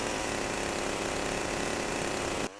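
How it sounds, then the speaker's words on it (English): Chainsaw sound effect from the original Grand Theft Auto game, a dense, steady buzzing roar held at full loudness and then cut off abruptly, with no talk. "The chainsaw sound effect when you hold down R2 is broken."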